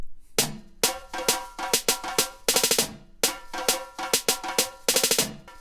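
Reggae dancehall drum chorus with parallel compression and plate reverb: punchy kick, snare and cymbal hits in a steady groove, close and full, with a short shimmering tail on each hit.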